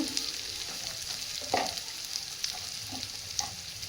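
Ground spices fry in hot oil after ginger paste, giving a soft continuous sizzle with occasional scrapes and taps of a spoon stirring the pan.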